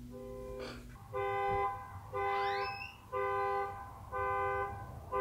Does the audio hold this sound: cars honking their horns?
yes